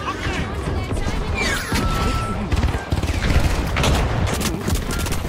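Dense, chaotic video game battle of laser gunfire and explosive impacts, with rapid shots, crashes and booms layered continuously and loud throughout.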